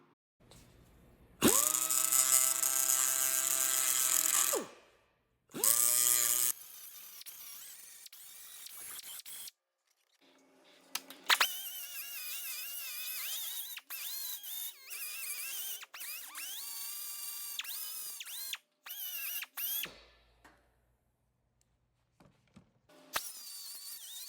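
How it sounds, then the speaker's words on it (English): A pneumatic angle grinder fitted with a cutoff wheel cuts into a 2016-2021 Honda Civic fender. It runs in loud, sustained bursts of a few seconds each, with pauses between them, and there is no talk. "I'm going to be using a pneumatic angle grinder with a cutoff wheel on it"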